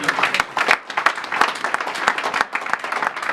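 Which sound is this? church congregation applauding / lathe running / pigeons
church congregation applauding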